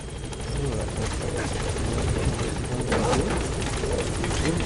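A helicopter arriving at a landing zone in Metal Gear Solid V: The Phantom Pain, a steady loud rotor thrum and engine whine building and holding throughout, close and dominant.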